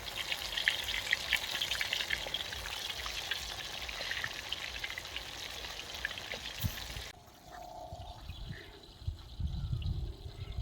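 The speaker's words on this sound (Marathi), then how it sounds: "बघू शकता ह्या अशा प्रकारे फ्राय होत आहे मासा" Halwa fish (pomfret) frying in a pan of oil, a steady dense sizzle that runs loud and continuous, then drops to a quieter crackle with low rumbling near the end.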